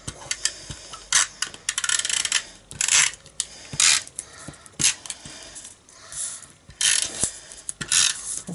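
A Snail dry adhesive tape runner lays glue onto card, making a run of close, quick ratcheting clicks and scratchy rolling bursts in short repeated strokes with brief gaps between them.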